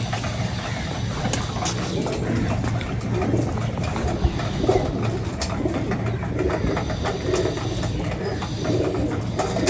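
A large male Kana pigeon, an old breed, coos alongside other pigeons, a continuous low murmur of calls with occasional voices in the background.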